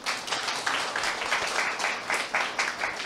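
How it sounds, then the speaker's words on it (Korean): Seminar audience applauding in a hall, a steady patter of many hands with a few louder swells, moderately close and continuing throughout. "야 박수 쳐드려야 돼."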